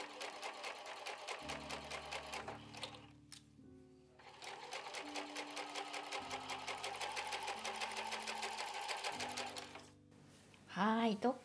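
A sewing machine stitches a patchwork pouch in rapid, even bursts, pausing briefly twice before resuming, with a steady low hum underneath and a short bit of fabric handling at the end.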